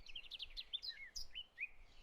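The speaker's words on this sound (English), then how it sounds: "Here's a bird. The bird says, "Tweet, tweet."" A small bird chirps in a quick series of high, bright tweets, several short calls in a row, fairly close and alone.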